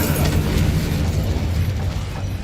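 An Incendio fire spell erupts in Hogwarts Legacy, a dense, steady roaring blast with crackling bursts and low rumble filling the whole moment at close range.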